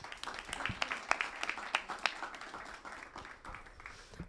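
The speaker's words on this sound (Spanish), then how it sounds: "Así que un aplauso también." Sparse, scattered clapping from a small audience at a university political science orientation fair, individual claps audible near and uneven, fading toward the end.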